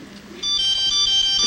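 A mobile phone ringtone cuts in abruptly after a brief quiet moment, then holds as a loud, steady electronic tone with bright, sustained pitches.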